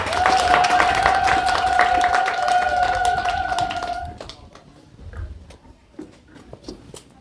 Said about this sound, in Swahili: Naomba tupigeni Ngowi makofi jamani.